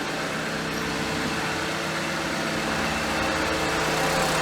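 A Vauxhall Corsa D engine idles steadily with a low, even hum under broadband noise, close and constant with no voices.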